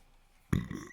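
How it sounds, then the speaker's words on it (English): A single short burp, close and fairly loud, bursting out after a quiet moment and fading within half a second, with no talk over it. "I don't know why I'm burping"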